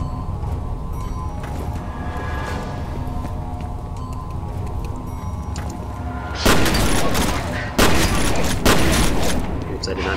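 A few loud bursts of gunfire in the shooter game F.E.A.R., breaking over a steady droning game ambience, with a voice talking in the background.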